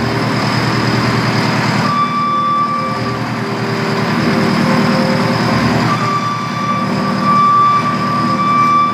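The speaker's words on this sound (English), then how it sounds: "Now there you heard the JCB diesel crank up and fire right up, burning clean." A 2014 JCB 225T Eco compact track loader's diesel engine idles steadily nearby, a continuous even rumble with a faint whine.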